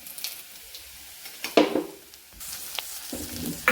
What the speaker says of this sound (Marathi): आपण शेंगदाणे टाकून घेतले शेंगदाणे छान परतून घ्यायचे